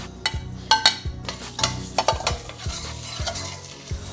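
Coriander seeds, curry leaves and red chilies roast in a pan for Kerala sambar, with a steady soft sizzle and a spoon scraping and stirring in repeated close strokes.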